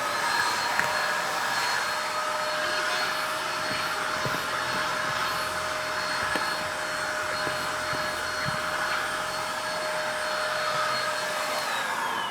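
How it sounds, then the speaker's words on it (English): A vacuum cleaner runs steadily and close up while cleaning the interior carpets of a 2015 BMW F80 M3, a constant whining drone with a high tonal hum throughout and small bumps as the nozzle moves. "then we're done with the vacuuming"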